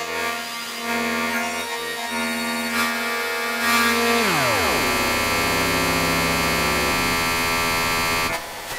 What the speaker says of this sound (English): now I'm processing my external oscillator through the Piston Honda's wave shaper